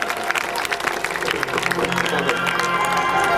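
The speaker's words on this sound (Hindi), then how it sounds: "जोरदार ताली बजा दीजिए।" An audience at a village Shrimad Bhagavat Katha gathering applauds in a dense, continuous patter of claps, with music and crowd murmur running underneath.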